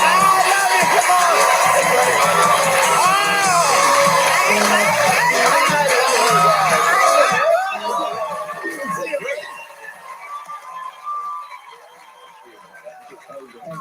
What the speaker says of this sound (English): Hey guys, what a crowd!